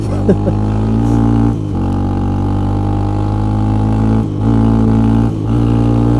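A cheap hundred-dollar quad ATV engine runs flat out in fifth gear, a loud, steady buzzing drone with strong harmonics that dips briefly a few times before recovering.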